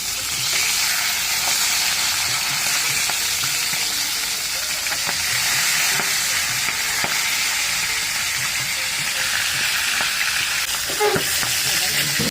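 Rohu fish gills fry in hot oil in a pan, a loud, dense, continuous sizzle with crackles and the occasional scrape of turning, and no one speaking.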